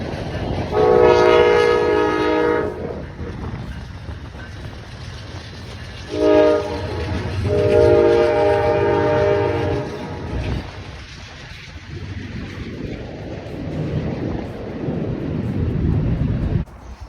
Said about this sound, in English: it's a little quieter now. Trains have passed.